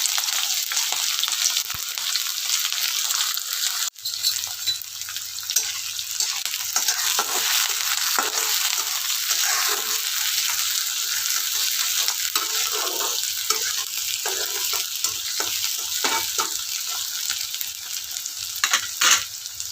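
Onion and green chili fry in oil with garlic for a fenugreek bhaji, a continuous hissing sizzle with occasional stirring scrapes, steady and close.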